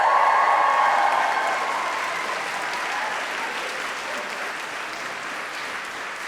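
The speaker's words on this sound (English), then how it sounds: "Now I'd like you to give them a round of applause with some yelping involved." Graduation ceremony audience applauds in a broad, steady wash of clapping that starts loud and eases slightly, with a few yelps and cheers mixed into the crowd sound.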